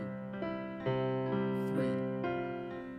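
A piano plays a flowing pattern of notes that ring into one another, sustained as if the pedal is held, gentle and close.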